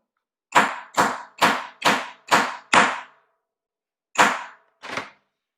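Hammer striking a metal stamp to imprint letters into metal for a jewelry necklace: six sharp, evenly spaced metallic taps, a pause, then two more blows, the last one softer, heard up close with no talking.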